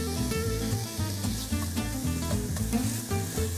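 Onion and garlic sizzle steadily in a pot of browned meat for harira soup, a continuous close frying hiss with stirring, set against a constant backdrop of music and no talking.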